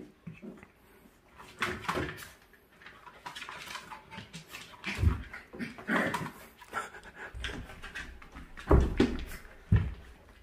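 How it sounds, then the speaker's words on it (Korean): A dachshund and a puppy playing indoors, with close, rhythmic panting, soft whimpers and scuffling thumps in uneven bursts, between quieter pauses. "폴리시 강아지한테 싸움 가르치면 안 돼."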